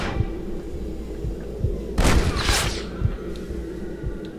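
Gunshots in the video game Red Dead Redemption, a loud burst of gunfire in the middle over a rumbling game background with fainter thuds around it.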